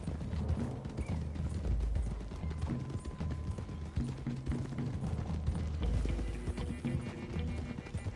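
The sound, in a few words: horses galloping in video game Red Dead Redemption 2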